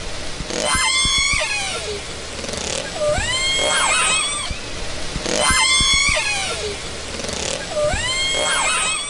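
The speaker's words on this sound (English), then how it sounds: "for the first time, we are hearing what's believed to be calls from the mother to her dead calf" Orca mother calling to her dead calf, captured by an underwater hydrophone: repeated high, gliding whistles and squealing calls in two similar bursts, loud and close over a constant underwater hiss, with no speech.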